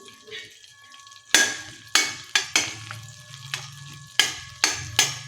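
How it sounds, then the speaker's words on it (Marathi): A cinnamon stick and a bay leaf hit hot butter and oil in a pan and sizzle loudly, with a few sharp bursts of frying and stirring over a quieter background hiss. "आता मी याच्यामध्ये एक छोटा दालचिनीचा तुकडा टाकते त्याचबरोबर एक तमालपत्र टाकते"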